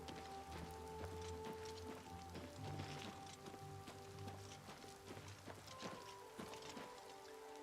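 Steady rain falls over the town of Cheydinhal in Oblivion Remastered, a continuous hiss with scattered drop patter and faint game ambience tones, without talk.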